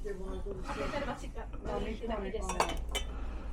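A tin can is handled among other metal and glass items, giving scattered light clinks and rattles close by while people talk over it.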